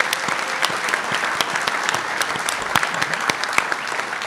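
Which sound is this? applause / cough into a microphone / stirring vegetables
applause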